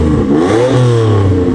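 V12 Toyota Century with an X-pipe exhaust revs up loudly close by, the engine note rising and holding in a smooth mid-pitched roar with slight rattle and no talking.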